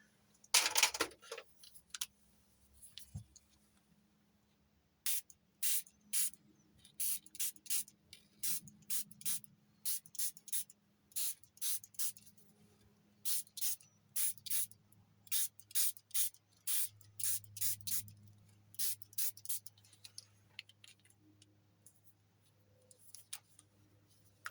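Repeated short bursts of a spray bottle misting water onto watercolour paint, dozens of quick pumps in a steady irregular rhythm, close and fairly quiet against a low background hum.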